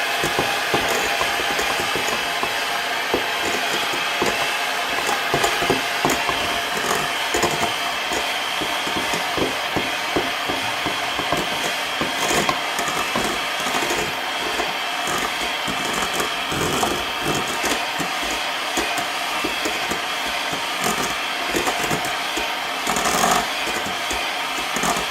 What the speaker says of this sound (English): I'm going to cream the brown sugar and the butter together.